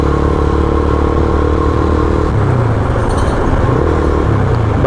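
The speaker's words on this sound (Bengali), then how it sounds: "অনেকগুলো বাইক একসাথে সুন্দর লাগতেছে" A group of motorcycles rides together along the highway between Feni and Chittagong, giving a loud, continuous engine drone with shifting low pitches as bikes pass close by, with no talk.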